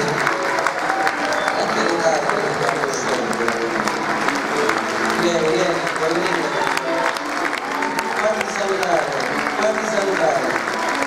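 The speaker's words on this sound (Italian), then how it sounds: "Senti che applauso, che meraviglia." A concert audience breaks into sustained applause, dense and continuous clapping from a large crowd that fills the whole stretch at a steady level.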